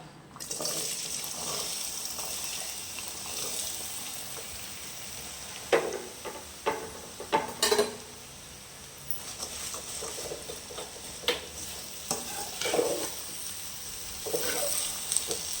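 Sliced bitter gourd sizzles and crackles after going into hot oil for Tamil-style fries, a steady close hiss broken by sharp pops and spatters.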